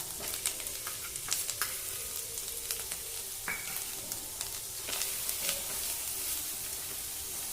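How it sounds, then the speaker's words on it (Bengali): Poppy seed paste with dried red chili powder and spices frying gently in a pan over a low gas flame, a soft steady sizzle broken by occasional scrapes and clicks of a stirring spoon. "গ্যাসটাকে লো ফ্লেমে রেখে 1 মিনিট কষিয়ে নেব মশলাটা"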